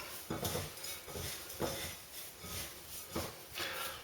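Boilie mix of ingredients and sugar being stirred in a bowl for carp bait, with a soft rhythmic scrape and clink of a utensil against the bowl about once a second.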